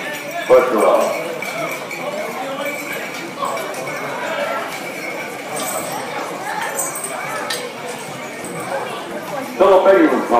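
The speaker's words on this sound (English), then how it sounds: "Beautiful horses." Horses clip-clopping along a street in a country exhibition parade, steady hoofbeats amid crowd chatter and occasional clinks, fairly loud and close.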